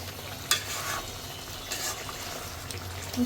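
Meat stir-fries in a pan for kosha, a soft steady sizzle with occasional louder spits and scraping stirs, heard close and without talk.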